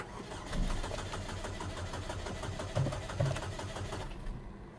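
A 2017 GMC Terrain that is out of gas cranks over without catching, the starter churning steadily and close for several seconds with a few stronger pulses.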